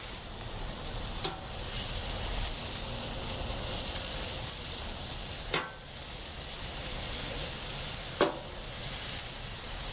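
Chopped steak patties, partially frozen, sizzle on a hot griddle with a steady close hiss of frying, broken by a few sharp clicks and scrapes as more patties are set down.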